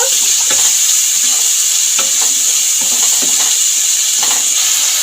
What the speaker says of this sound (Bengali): নুন দিয়ে ভালো করে মশলাটাকে কষিয়ে নেব